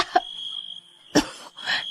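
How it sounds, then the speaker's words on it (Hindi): Two girls give three short, sharp coughs, separated by pauses, close and moderately loud. "वो दोनों खांसने लगी"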